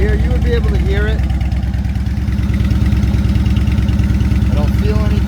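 Loud, close, steady idle of a 2006 Yamaha Warrior ATV engine, an even low throb holding constant throughout, with a voice briefly audible over it.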